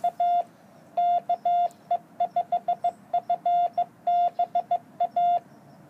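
MFJ-464 keyer sending a Morse code CQ call on 14.045 at 1.5 watts, a clean, loud, steady tone keyed in crisp rhythmic dots and dashes with no talk.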